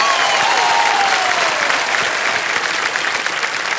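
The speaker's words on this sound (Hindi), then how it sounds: "ताली बज जाए इनके लिए।" Studio audience applause on a television quiz show set, a dense, loud burst of clapping from a large crowd that carries on steadily and then slowly thins out.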